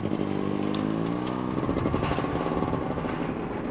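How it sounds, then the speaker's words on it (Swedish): A small classic car with a two-stroke engine, puffing oil smoke from the exhaust, runs steadily close by with a buzzing, rattling drone and no talk. "Under huven satt en tvåtaktsmotor och ur avgasröret bolmade oljeröken."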